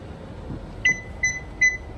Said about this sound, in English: That's the car beeping.